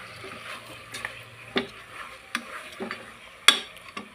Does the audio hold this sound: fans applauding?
no